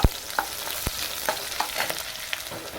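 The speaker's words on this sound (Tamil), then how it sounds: "வெங்காயம் வதங்கும்போது" Onions sizzling and frying in hot oil for a Madurai-style chicken curry, a steady crackle broken by sharp pops and occasional stirring scrapes, close by with no talking.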